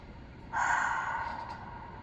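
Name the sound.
deep breath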